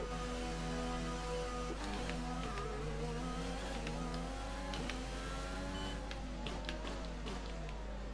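An F1 car in the F1 2020 racing game pulls out along the pit lane at the US circuit, a steady droning engine tone with shifting pitch and gear changes, heard alone with no talk over it.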